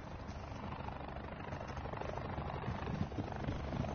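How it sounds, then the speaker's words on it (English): A helicopter gives a faint, steady rotor drone that builds slightly over several seconds, with no speech over it. "Hold that tight now and take that helicopter down."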